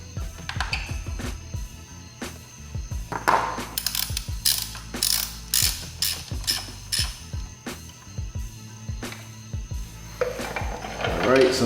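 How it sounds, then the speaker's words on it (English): A hand ratchet clicks in bursts while backing a bolt off the shifter of a Ducati 959 Panigale during a rearset install, with metallic clinks and tool handling close by. "Now we just gotta take the bolt off the shifter somehow."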